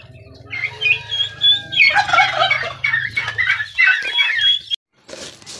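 Turkey breeders cluck and call in a busy flock while waiting for feed, with overlapping close-range clucks and gobble-like calls over a low steady hum, ending in a brief silence.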